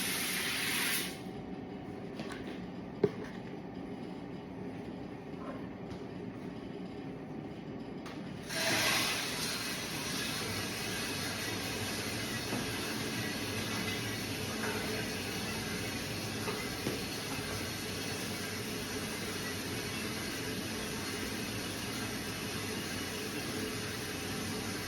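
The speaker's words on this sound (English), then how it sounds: "I will now put it in the roaster." A coffee roaster runs with Ethiopian Yirgacheffe beans inside, giving a steady loud hiss and whir. A brief click comes early, and the rushing noise grows louder and fuller after about eight seconds, then holds constant.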